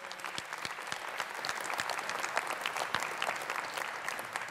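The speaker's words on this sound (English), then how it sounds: "The shadow education secretary was applauding you" Applause from the audience at a People's Policy Forum Q&A with Ed Miliband, a steady crackle of many hands clapping, moderately distant and sustained throughout.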